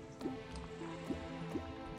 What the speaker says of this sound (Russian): наконец-то эта лава перестала капать